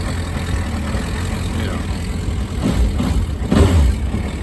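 A 2011 Suzuki GSX 1250 FA motorcycle with its original stock exhaust idles nearby, a low steady engine rumble with a couple of brief rises in the second half, with no speech over it.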